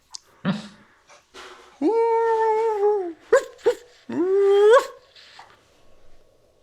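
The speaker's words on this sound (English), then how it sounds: "Might be some howling, Dolls?" A dog-like howling effect during a tabletop role-playing game, several rising, sustained howls and whimpers with short yips between them, clear and moderately close in an otherwise quiet room.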